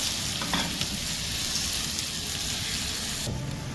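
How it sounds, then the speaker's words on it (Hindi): Red radish (mooli) sautéing with salt in a pan over a medium flame, giving a steady, close sizzle with light stirring scrapes throughout and no talking. "इसे हम मीडियम फ्लेम पर सॉल्ट ऐड कर देते हैं और 5 मिनट के लिए थोड़ा सा भूनते हैं"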